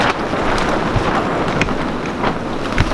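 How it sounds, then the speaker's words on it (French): Strong wind gusting through a vegetable garden with tomatoes and parsley, a steady loud roar with buffeting gust peaks throughout, no voices. "mais je peux vous dire qu'en ce moment il y a beaucoup de vent"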